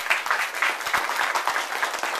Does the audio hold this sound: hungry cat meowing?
no